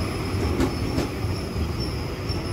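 A KRL Commuter Line train rolls through Manggarai station at rush hour, a continuous loud rumble of wheels on rail with faint screeching squeals and clicks, steady throughout with no voices.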